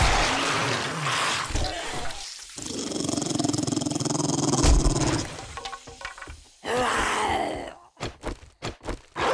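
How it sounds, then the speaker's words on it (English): A dog in the 7 Days to Die video game growls and snarls up close, long rough rumbling bursts giving way to choppy, broken snarls and thuds toward the end, with a voice briefly underneath. "Not expecting a dog in there"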